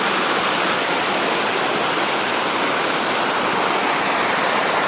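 Spread Eagle Falls near Shillong roars as a loud, steady, unbroken rush of falling water, close and constant with no voices.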